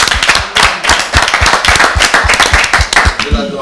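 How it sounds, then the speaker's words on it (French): Audience clapping for artists at a Congolese concert show, loud rhythmic hand claps close by, steady and dense throughout with voices mixed in. "on applaudit encore très fort"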